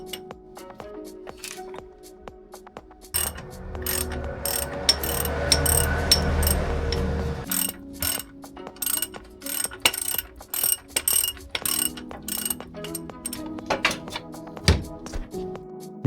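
A tool undoes two 10 mm bolts holding the transmission cooler to the subframe of a BMW E70 X5, with repeated clicking ratchet strokes in bursts and metallic clinks, close and fairly loud, with no talking.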